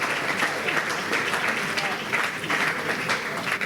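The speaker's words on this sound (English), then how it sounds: "let's clap" Continuous audience clapping at a university law week celebration, dense and steady throughout with a few louder individual claps, with people talking underneath.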